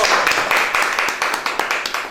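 Applause at a Punjabi poetry recitation: a short burst of rapid, close clapping from several hands, sharp and uneven.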